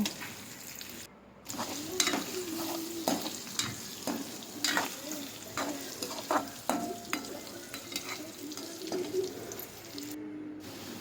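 Onions frying in a pan until brown for tomato egg rice, a soft sizzle punctuated by frequent clattering stirs and scrapes throughout.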